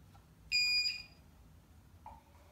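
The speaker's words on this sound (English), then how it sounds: "The beep from the power inverter." A short, loud electronic beep with a clear high pitch sounds once from a power inverter running on 18650 batteries, followed by a softer brief tone a moment later, over a quiet background.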